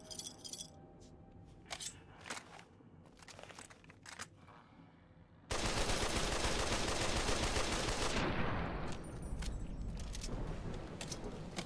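Gunfire in Fallout: New Vegas, scattered single shots that give way to a sustained loud burst of rapid fire from an emptied magazine, with no voices.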